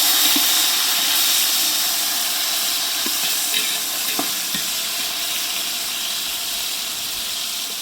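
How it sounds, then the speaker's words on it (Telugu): Chopped tomatoes go into browned onions frying in a pan, producing a loud, even, close-up hiss of sizzling oil with a few faint ticks and pops. "తరిగి పెట్టుకున్న టమాటా ముక్కలు వేసుకున్నాం"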